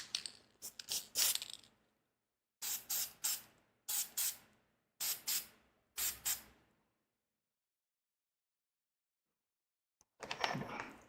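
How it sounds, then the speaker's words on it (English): Spray paint from an aerosol can hisses onto miniatures as a base coat in a series of short bursts, loud and close, with long pauses of silence between them and a final burst after a gap; no talking. "I have to be spraying upwards, but time to start base coating my little dudes"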